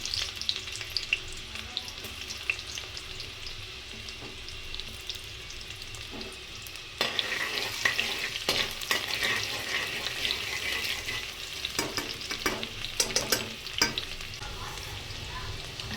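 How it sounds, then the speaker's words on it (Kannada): Onion and mint fry in ghee in a pan, giving a continuous close sizzle that grows louder and busier midway, with scattered stirring scrapes and clatters. "ಆನಿಯನ್ ಆ್ಯಂಡ್ ಪುದೀನ ಫ್ರೈ ಆಗ್ತಿದೆ"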